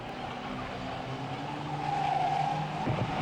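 Race cars at Bovingdon Raceway roar past at a steady distance, one skidding with a faint tire squeal as engine noise swells toward the end.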